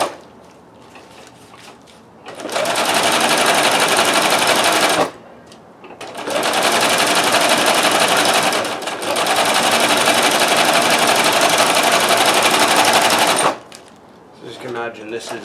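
A Techsew 611 walking foot industrial sewing machine driven by a Consew servo motor, running loud and close in three sustained bursts of rapid, even stitching with brief pauses between them and quiet handling noises in the gaps.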